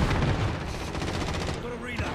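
Rapid automatic gunfire in Call of Duty: Modern Warfare, a dense loud rattle of shots running throughout with a brief lull near the end, under excited talk.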